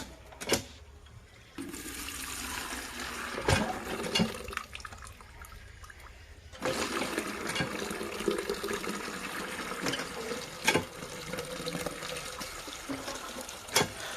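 Water gushing from a repaired hand pump tubewell, a steady splashing flow that drops quieter for a few seconds and then resumes stronger, with faint knocks from the pump between strokes.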